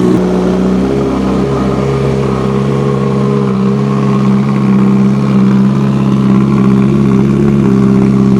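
A Kawasaki Ninja H2 motorcycle left unstarted for six months runs loud and close with a steady, throbbing engine drone and slight rises in pitch, no voices heard.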